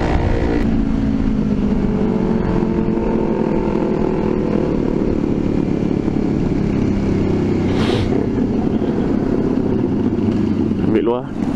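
A Yamaha Y15ZR motorcycle engine drones and revs steadily close by at a motovlogger meetup, its loud, continuous tone running the whole way before cutting off sharply at the end.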